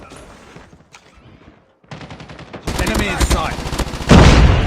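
Gunfire from a Type25 rifle in a military shooter game, heard as bursts of sharp shots that grow louder and denser toward the end, with a brief spoken line near the start.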